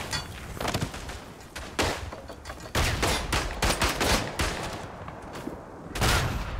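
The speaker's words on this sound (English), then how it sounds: "Oh, that mortar!" Mortar and rifle fire in the First World War shooter Verdun, on the Vosges map: a dense, continuous barrage of close gunshots and heavy thumping blasts with almost no pause.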